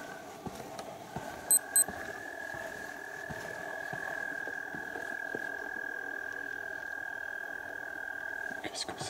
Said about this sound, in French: Là on entend un grillon.